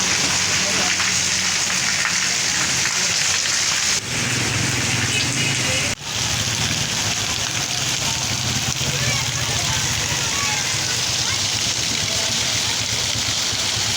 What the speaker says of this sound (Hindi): कितना ज़्यादा तेज़ बारिश बरस रहा है।